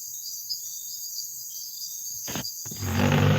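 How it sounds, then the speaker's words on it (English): Crickets chirp in a steady high trill, joined near the end by a sudden louder rush of noise. "It's crickets. They're outside."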